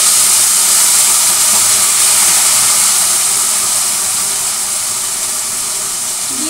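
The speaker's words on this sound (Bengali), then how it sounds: "তার আগে একটু গরম জল দিয়ে নিই, কেননা মশলাগুলো না হলে পুড়ে যেতে পারে।" Hot water splashed into a hot pan of frying potatoes and pointed gourd, just before the spices go in, gives a loud, steady, close hiss of steam that holds for several seconds and fades slightly toward the end.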